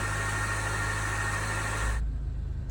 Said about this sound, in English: It sounds like there's an air pump doing something.